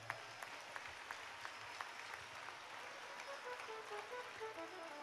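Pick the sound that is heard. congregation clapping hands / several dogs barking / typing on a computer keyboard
congregation clapping hands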